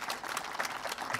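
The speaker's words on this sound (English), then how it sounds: "please give Arian a huge round of applause" Applause from an audience at a ribbon cutting ceremony for the Spokane Regional Stabilization Center, a brief steady patter of many hands clapping at moderate distance.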